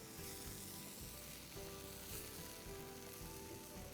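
Tomato sauce with salt, red chili flakes and mixed herbs sizzles in a pan for a prawn lasagne, a faint continuous frying hiss with soft rhythmic stirring strokes repeating about every half second.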